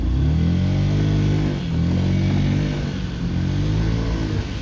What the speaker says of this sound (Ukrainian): приємно заводиться.